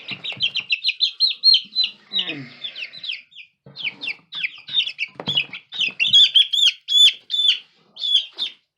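A backyard chicken flock, including an Americana hen, chirps, peeps and clucks close by in quick, busy bursts that run continuously and overlap one another.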